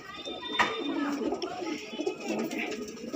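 Madrasi pigeons coo repeatedly at close range, low rolling calls mixed with other birds and faint background chatter.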